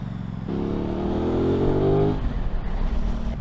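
A 2021 Aprilia RS660 motorcycle engine revs up from idle, the pitch climbing smoothly for about two seconds before falling back to a loping idle, close and clear with airbox intake noise.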